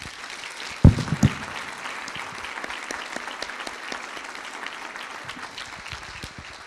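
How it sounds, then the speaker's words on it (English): Warm applause from graduates and guests at a college commencement ceremony, a full crowd clapping steadily throughout, with a couple of sharp bumps near the microphone early on. "give all your supporters a warm applause"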